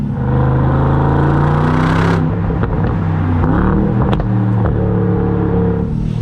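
Aston Martin DBX S SUV engine droning steadily while driving, a low harmonic rumble that holds and shifts slightly in pitch, close and continuous with no talk.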